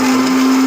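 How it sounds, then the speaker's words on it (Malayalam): An electric mixer jar grinds ginger into a paste with a loud, steady, close motor whir and a strong fixed hum, heard briefly and alone. "അതിനുശേഷം ജ്യൂസ് അടിക്കുകയാണ്."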